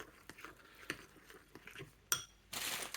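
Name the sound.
stirring hot oat porridge on a plate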